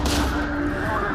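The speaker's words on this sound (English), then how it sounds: "three gunshots were fired at the president's motorcade" A sharp gunshot rings out at President Kennedy's motorcade, a single loud report at the start that decays into a low, rumbling tail.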